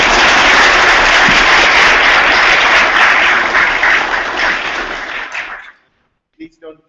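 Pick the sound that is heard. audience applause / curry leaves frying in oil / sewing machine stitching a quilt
audience applause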